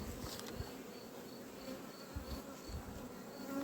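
Honey bees buzz steadily around a beehive during a nectar flow in Ukraine, a continuous soft droning hum with no voices.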